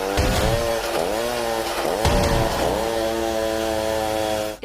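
A chainsaw engine runs loud and close without pause, its pitch dipping and surging a few times as the throttle is worked, then cutting off abruptly at the end.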